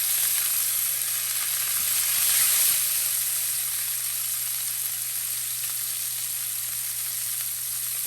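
Pork chops searing hard in a pan, a loud, dense sizzle that swells briefly early on and then holds steady, with a faint low hum beneath and no talking.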